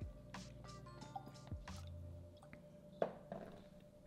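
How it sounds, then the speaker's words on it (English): Water trickles and drips into a glass of calvados in a quiet room, giving soft close splashes and a few distinct plops. "Let's go ahead and add some water."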